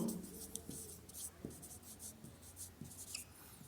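Pen writing on paper in a quiet room during an accounting lesson, a run of soft scratchy strokes with brief pauses between words, close and fairly faint.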